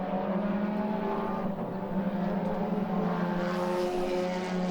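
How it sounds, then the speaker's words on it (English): F4 race cars battle at the NOLA circuit, braking for a turn: a continuous, moderately loud engine drone with steady tonal whine, no voices. "Berg, Shehan, and Fonseca as they hit the brakes for turn 13."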